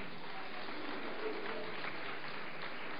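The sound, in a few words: applause from church congregation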